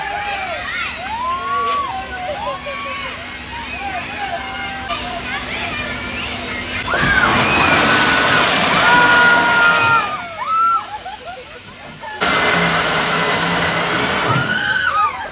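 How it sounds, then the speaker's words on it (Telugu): A free fall ride at the Queensland amusement park in Chennai drops its riders, whose shrill screams rise in waves over crowd noise and nearby talking. "ఇదే అండి ఫ్రీ ఫాల్. పైకి అయితే తీసుకెళ్ళి ఫ్రీగా అయితే వదిలేస్తుంది."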